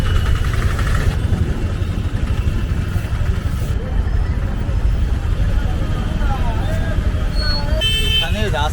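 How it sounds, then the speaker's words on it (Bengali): Traffic jam on a road near Kolkata, with car horns tooting among engine rumble and passing motorcycles, heard as steady loud road noise under someone talking. "এখানে রাস্তায় এত জ্যাম যে হর্নের আওয়াজ মোটামুটি আপনাকে পাগল করে দিতে পারে কিছু মুহূর্তের মধ্যে"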